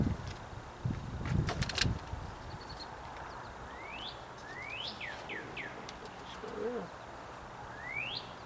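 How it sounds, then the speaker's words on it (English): Cardinal singing outdoors in a garden or yard: a series of clear, rising whistled slurs repeated at a distance over quiet background noise, with a few low thumps and clatters early on. "That cardinal's making a lot of noise."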